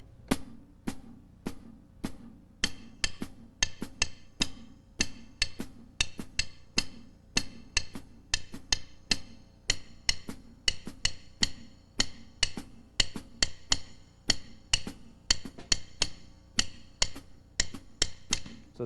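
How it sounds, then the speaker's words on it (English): A drum kit plays steady quarter notes with a 6/8 clave pattern layered on top, a continuous run of crisp, evenly driving hits, close and alone with no talking. "Start with the quarter notes. I'll add the clave in 6."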